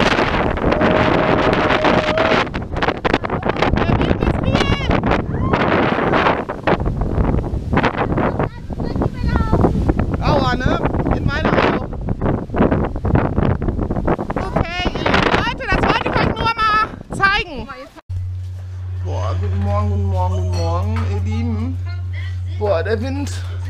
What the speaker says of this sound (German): Der Wind macht mich fertig